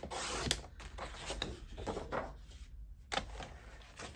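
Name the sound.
cutting a strip of paper for a card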